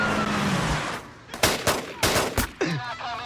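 Rifles fire during a film shootout, with a run of sharp, loud cracking shots in quick bursts over background noise, followed by a voice speaking near the end.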